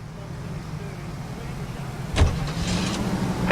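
Car driven in the LA Noire video game, a low steady engine hum with a sharp thump midway followed by brighter mechanical noise.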